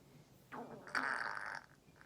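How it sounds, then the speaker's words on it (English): A flatulent sound from a person living with a stoma after ovarian cancer surgery, a rough, bubbly burst of about a second rising from a soft onset, fairly close and moderately loud, with no talking. "There's a fart."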